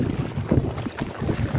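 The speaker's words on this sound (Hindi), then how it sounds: "यहाँ पे बहुत ही तेज बहाव चल रहा है" Swollen flood water of the Kharkai river rushes past after heavy rain in Chaibasa, a low, churning roar mixed with buffeting wind noise on the microphone, with no speech.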